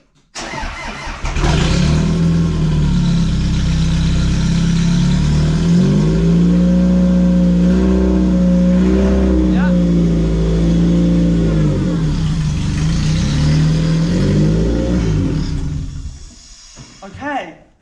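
The engine of a Toyota MR2 starts after a clutch swap and settles into a steady, loud, close mid-pitched running note with slight revs. It idles for many seconds before cutting off.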